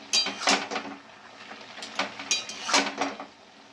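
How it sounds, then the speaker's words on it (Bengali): A spoon scrapes and knocks against a pan while spinach stalk curry is stirred, several loud clattering strokes in an uneven rhythm, close by and with no voices. "আমি আবার আবার নেড়ে নিচ্ছি"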